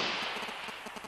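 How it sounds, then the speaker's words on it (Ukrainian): Chaotic small-arms fire on the front line near Horlivka in Donbas, a quick rattling burst of shots that is dense at first and then trails off, heard from a distance with no voices. "Хаотична стрільба, просто та, щоб постріляти"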